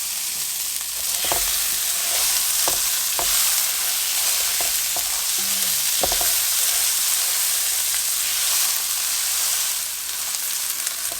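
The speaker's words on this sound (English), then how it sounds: "I just want to fry this rice a little bit in this oil and in this chicken fat and get it a little bit browned" Rice frying in oil and chicken fat in a pot, a steady loud sizzle with occasional clinks and scrapes of stirring, no talk.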